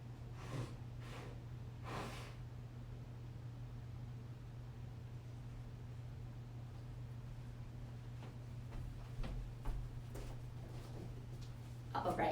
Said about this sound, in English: 3 more breaths.